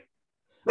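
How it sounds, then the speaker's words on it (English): A pet dog barks once, loud and close, at visiting guests in a home, a single sharp bark coming after near silence. "Don't bark at them."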